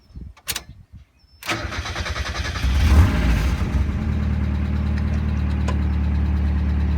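A Mazda Miata engine cranks briefly, catches and roars up, then settles into a steady idle rumble, loud and close with no talking.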